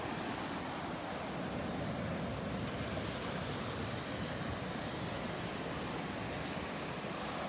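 Surf washes continuously onto a Gulf beach at Delnor-Wiggins under stormy conditions offshore, a steady broad rushing roar with some wind noise on the microphone, moderately faint and with no voices.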